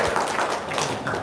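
Audience clapping at a comedic talk show: a short burst of dense, steady applause, moderately loud, with no clear speech over it.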